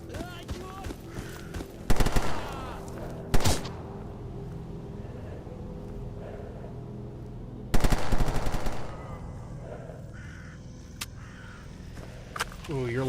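Gunfire in the Stalker Anomaly video game, several short loud automatic bursts separated by quieter stretches, with a person talking throughout.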